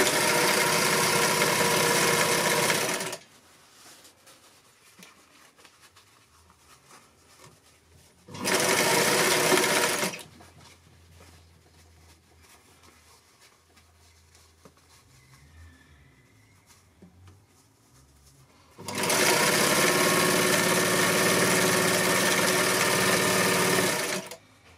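A sewing machine stitches fabric for a cushion in three bursts of fast, steady whirring, each running a few seconds and stopping abruptly, with quiet handling of cloth in the pauses between.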